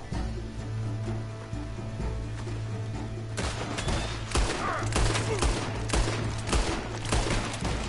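In the video game Red Dead Redemption 2, a constant engine-like hum runs under the scene until a burst of dense gunfire breaks out, with loud, rapid overlapping shots carrying on to the end.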